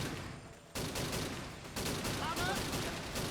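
Sawed-off shotgun fire in a military video game: two sudden, loud blasts about a second apart, each leaving a dense, noisy roar over busy battlefield background.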